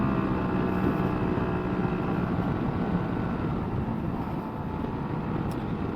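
A Yamaha YBR 125 motorbike with a custom exhaust climbs a steep hill in third gear near 10,000 RPM, its engine a continuous loud drone mixed with heavy wind rush.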